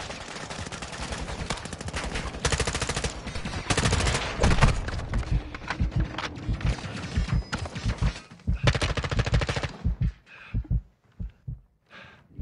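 Heavy automatic gunfire in the video game Modern Warfare 2, dense loud bursts and fusillades crowding the first ten seconds, then thinning into a few separate shots at the end.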